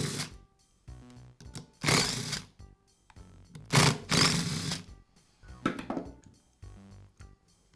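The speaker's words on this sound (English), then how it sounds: "Now I'll remove the 4 screws that secure the head to the pump." Screws being removed from the pump head of a Bostitch air compressor during a valve plate repair: three close, loud, whirring bursts separated by quiet gaps, with faint clicks between them.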